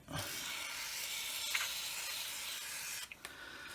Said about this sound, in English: I'll just get a bit switch cleaner on